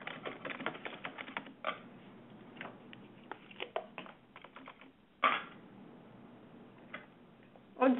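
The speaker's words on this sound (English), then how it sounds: "And I would type in my objectives here." Typing on a computer keyboard to enter objectives: quiet, irregular key clicks in quick bursts with short pauses, plus a few louder, sharper taps near the end.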